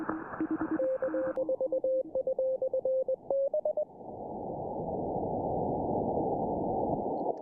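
A radio receiver plays an amateur radio pile-up of many Morse code stations, with overlapping steady beeping tones that give way to loud hissing static.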